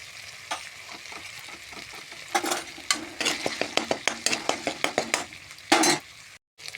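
Spice masala stir-fries in a pan, a sizzling hiss under a fast, rhythmic series of spatula scrapes and taps against the metal, close and moderately loud, with no one speaking.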